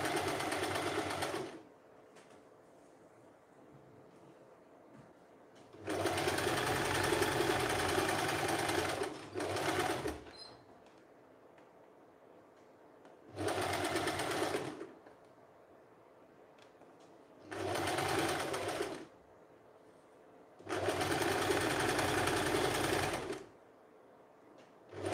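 A sewing machine stitches a zigzag overlock hem on a women's tank top with a corded strap, running in five loud bursts of steady mechanical whirring separated by quiet pauses, close up and with no talk.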